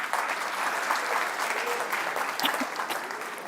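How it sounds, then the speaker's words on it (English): Classroom audience at an SAT English workshop applauds a student, a dense, steady wash of many hands clapping close by and evenly loud for the whole stretch. "Let's clap for him"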